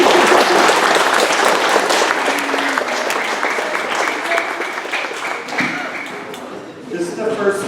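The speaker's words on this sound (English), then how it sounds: "give them a round of applause" Steady applause from a graduation ceremony audience, dense clapping that fills the room and slowly thins toward the end, with faint voices and a few taps mixed in underneath.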